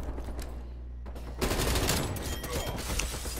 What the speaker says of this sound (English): That's a random nade that just hit.